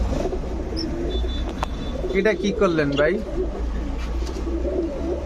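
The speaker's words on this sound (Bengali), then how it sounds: "এই চার জোড়া কবুতর" Pigeons including racing and fancy breeds coo steadily at a pigeon shop in Bangladesh, low rolling coos repeating near the microphone under a man's brief spoken remark and a faint background hum.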